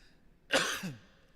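A voice imitates a single rough cough, short and throaty, in a quiet setting.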